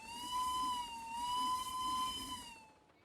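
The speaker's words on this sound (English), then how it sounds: "Oh yeah, there's also a whistle, obviously." Steam locomotive whistle in the video game Steam and Steel, a sustained steady tone with strong harmonics held for nearly three seconds, loud and clear, then fading out at the end.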